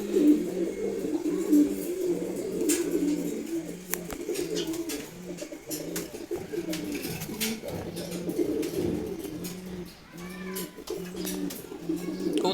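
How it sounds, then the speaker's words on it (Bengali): A male pigeon coos repeatedly close by, low throaty rolling calls in a steady rhythm, with some faint background noise. "এটা নর কবুতর।"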